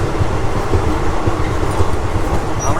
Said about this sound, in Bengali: এখন জাস্ট ট্রেনটা ছাড়লো গুন্ডুগন থেকে, এই স্টেশন ছেড়ে চলে যাচ্ছে